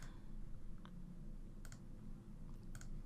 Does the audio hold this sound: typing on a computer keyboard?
yes